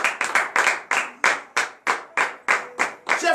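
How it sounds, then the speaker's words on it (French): A church congregation at a morning prayer service in Benin claps in unison, about a dozen sharp, evenly spaced claps in a steady rhythm, close and fairly loud with no talking over it. "c'est notre Seigneur Jésus, notre Dieu, dont je vous demande d'applaudir très fort."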